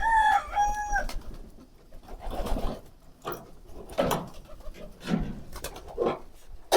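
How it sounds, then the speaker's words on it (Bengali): Pigeons call out briefly at the start, followed by bursts of wing flapping and fluttering as several pigeons are released and take off. "এখন কবুতরগুলোকে ছেড়ে দিই"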